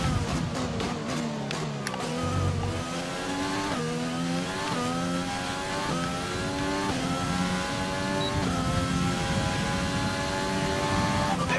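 Race cars in a racing video game roar past, their engines climbing in pitch and dropping through repeated gear shifts. The loud revving runs continuously as several cars sweep by.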